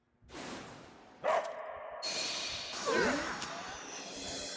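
A person in an anime imitates a dog's bark, giving several loud, gruff woofs and growling yelps near the mic, mixed with breathy whooshes and a voice.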